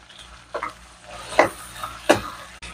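Boti gravy cooking slowly in a pan over a low village-kitchen flame, with a soft steady sizzle and a few distinct scraping stirs spaced about a second apart.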